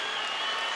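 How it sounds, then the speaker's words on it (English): Boxing crowd at a Las Vegas fight applauding and cheering for Mosley, a dense steady roar of clapping and voices, loud and continuous. "it's the Mosley people who are celebrating in Las Vegas"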